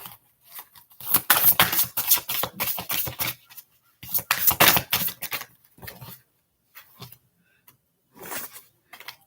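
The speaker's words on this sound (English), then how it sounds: "Let me shuffle it, man." Tarot cards being shuffled during a chakra reading, bursts of quick papery riffling and slapping that come in several loud clusters separated by short pauses, close and clear with no talk.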